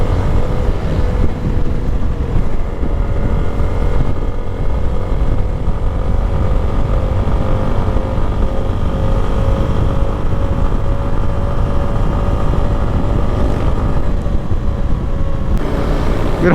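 Yamaha Sniper 155 motorcycle engine heard while riding at speed, a loud continuous drone with rising and falling engine pitch under heavy wind rush, close to the microphone, no talk.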